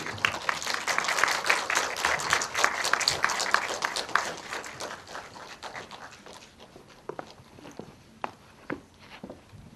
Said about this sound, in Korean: 박수 좀 부탁드리겠습니다.